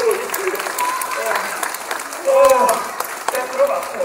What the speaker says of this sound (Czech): Zatleskejte pánovi.